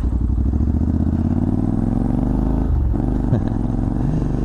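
Scrambler motorcycle engine running at a steady, loud, close rumble with a rhythmic pulsing throb while riding on a slippy road, briefly dipping and surging near the end with no speech.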